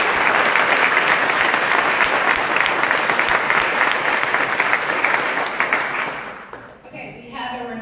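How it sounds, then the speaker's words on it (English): Audience applause for volunteers at a town hall meeting, loud sustained clapping from a crowd that fades out near the end, followed by a voice starting to talk. "We just want to give them a round of applause."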